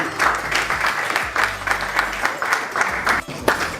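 An audience at a hairdressing competition claps for Madame Karamanko, uneven bursts of applause with a low hum running underneath and brief dips between waves.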